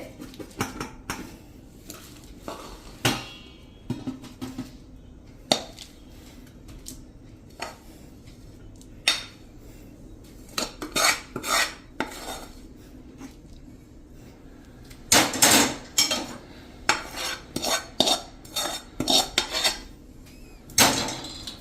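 Greased metal plates are handled while sesame chikki is spread into them. Irregular clinks, scrapes and taps of metal ring out close by, some isolated and some in quick clusters, over a quiet room.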